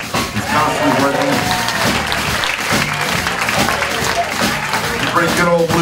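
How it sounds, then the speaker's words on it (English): A crowd at a blues club, the Funky Biscuit, applauds for Al in a steady, dense stretch of clapping, with voices and some speech mixed underneath throughout. "Why don't we put a big round of applause together for Al?"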